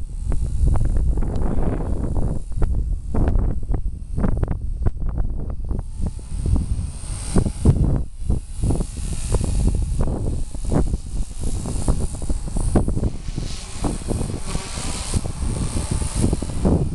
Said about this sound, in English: 40-mile-per-hour gusts. Not even gusts, this is steady wind